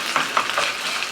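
Garlic and ginger paste stirred in a hot pan, a close, short burst of sizzling with a few quick scraping stirs, no voices.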